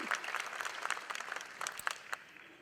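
A round of applause at a chamber of commerce banquet, scattered hand claps from a modest crowd heard at a distance, fairly faint and tapering off toward the end.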